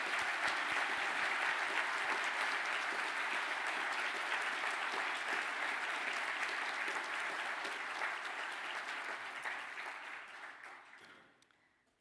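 Sustained applause from an audience at a culinary and gastronomic sciences graduation ceremony, steady dense clapping that fades away toward the end.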